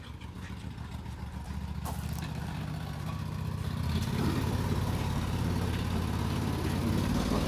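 Argo amphibious vehicle engine running in a farm yard, a steady low rumble that grows louder and rougher midway as it drives, with no speech.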